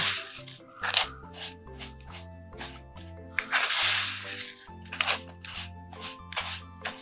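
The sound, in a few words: spoon mixing and pressing unicorn sugar scrub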